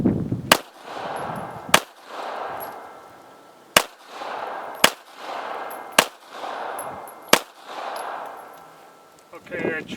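A Taurus Spectrum pistol fires rapidly at an outdoor range, sharp loud shots spaced roughly a second apart with echoing, noisy tails between them.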